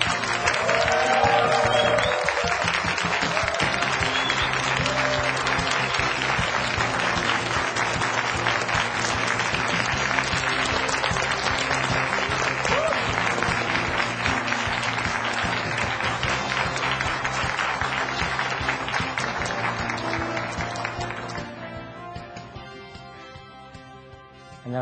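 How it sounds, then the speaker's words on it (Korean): A lecture audience welcomes Hyundai I'Park Mall CEO Choi Dong-ju with sustained, dense applause that holds strong for about twenty seconds before tapering off near the end. "여러분, 현대 아이파크몰의 최동주 대표를 힘찬 박수로 맞이해 주십시오."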